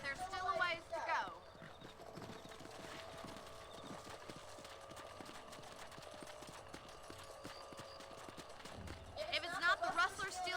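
Steady clip-clop of horse hooves during a ride in the Red Dead Redemption western video game, continuous and fairly close, with a horse snort near the start and end and a voice talking over part of it.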